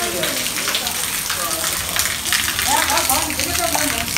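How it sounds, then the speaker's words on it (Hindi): Heavy rain pours down in a loud, dense, constant roar, with splashing patter and faint voices in the background. "इंजॉय कर रहे हैं जी बारिश की"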